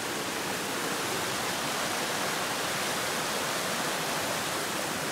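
Woodland waterfalls in Connecticut rush with a dense, steady roar of falling water, loud and unbroken, with no voices.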